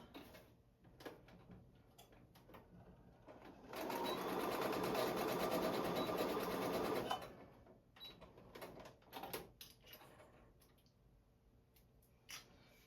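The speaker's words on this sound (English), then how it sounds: "now we have stitched these seams here on both sides" Sewing machine stitching the side seams of a DIY fabric holder for wonder clips: a loud, steady whir of about three seconds in the middle, set between quieter handling clicks and taps.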